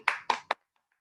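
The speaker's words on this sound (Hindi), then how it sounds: "एक बार सभी लोग ताली बजाएंगे" Three sharp hand claps ring out in quick succession, close and distinct over a video call, followed by a few faint taps trailing off into near silence.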